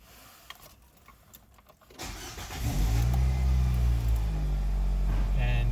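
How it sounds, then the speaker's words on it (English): A Nissan Versa from the 2007-2012 years starts up with a short starter crank, then its engine catches and settles into a steady, fairly loud idle hum, heard close up with no talking. "Now we'll start the vehicle."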